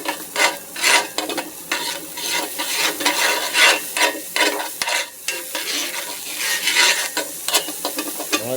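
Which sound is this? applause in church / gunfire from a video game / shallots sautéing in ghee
shallots sautéing in ghee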